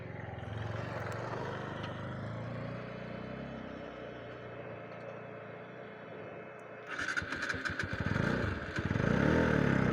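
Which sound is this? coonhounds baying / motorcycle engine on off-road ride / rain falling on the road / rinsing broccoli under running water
motorcycle engine on off-road ride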